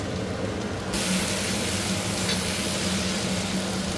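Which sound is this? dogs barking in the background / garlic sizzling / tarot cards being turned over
garlic sizzling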